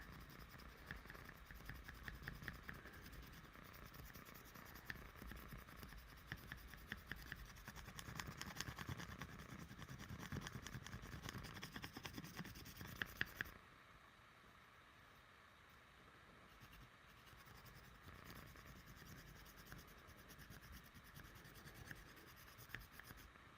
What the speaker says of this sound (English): let's go ahead and sand that a little bit more